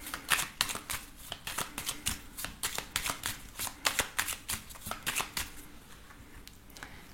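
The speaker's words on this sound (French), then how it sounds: "On va faire également un tirage avec le jeu de 32." A 32-card deck is shuffled by hand for a card reading: a close, rapid run of papery riffles and flicks that continues steadily for several seconds with no talk.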